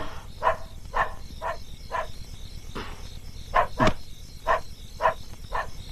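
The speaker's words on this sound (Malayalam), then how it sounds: "കുരയ്ക്കുന്നുണ്ട്" A dog named Kaiser barks repeatedly at a steady rhythm, about ten sharp barks at moderate distance over a faint insect-like hum, with no talking.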